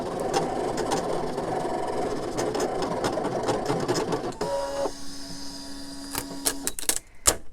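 Brother ScanNCut 2 cutting machine cutting around an image on its mat, a steady close mechanical whirr with small motor whines and a few sharp clicks near the end.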